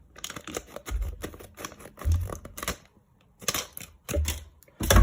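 Scissors snip open a Yu-Gi-Oh! booster pack in a series of crisp, close cutting and crinkling bursts with short pauses and a few low thumps, no talking.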